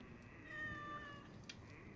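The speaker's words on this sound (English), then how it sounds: "Oh, it's a kitty! Come here, kitty." A cat meows softly in the video game Assassin's Creed Origins, a single faint drawn-out call over a low ambient game background.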